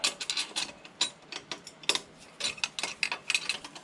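A ratchet working a bolt loose on a BMW N54 engine of a 335i, sounding as a close run of rapid irregular clicks in short bursts with brief pauses, no talking.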